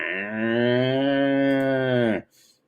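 A person imitates a cow's moo with one long, loud, sustained lowing call lasting about two seconds, close to the microphone, then breaks off abruptly.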